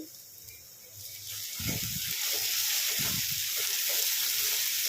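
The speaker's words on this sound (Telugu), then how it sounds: "ఇప్పుడు ఇందులో 1 టీ స్పూన్ అల్లం వెల్లుల్లి పేస్ట్ వేసుకున్నాము. కొద్దిగా కరివేపాకు వేసుకోండి." Onions sizzle steadily in a pan as ginger garlic paste and curry leaves go in, a continuous close frying hiss that swells louder after the additions, with a few stirring scrapes and no talking.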